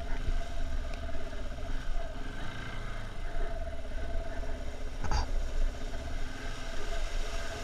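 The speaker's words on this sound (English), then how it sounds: "A lot of big bikes with lots of throttle." Big motorcycles on a forest trail, with a continuous, fairly close engine drone rising and falling as the throttle is worked, rough and gritty throughout with no talk.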